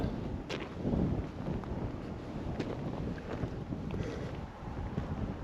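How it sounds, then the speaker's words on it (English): Wind on a mountain trail in Davis Mountains State Park, a continuous rushing rumble buffeting the microphone with slight gusty swells and no speech. "Wind has picked up a little bit."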